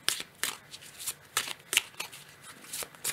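Oracle cards are shuffled by hand for a card reading, producing a close series of soft, irregular riffling and flicking bursts with no voices.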